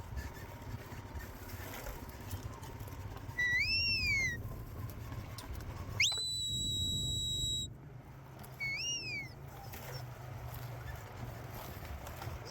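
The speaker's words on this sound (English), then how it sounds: "So just giving a clockwise whistle there" A herder gives a clockwise whistle to send working dogs around a mob of cows: three sharp, rising-and-falling whistled calls, with a longer steady note in the middle, over quiet outdoor background.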